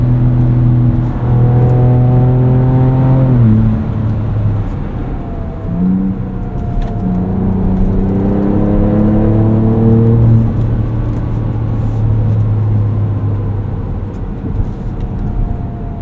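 A 2024 Ford Ranger Raptor engine pulls hard while driving, revving up through gears in strong rising tones, dipping briefly at a shift and climbing again, loud and close throughout with no talking.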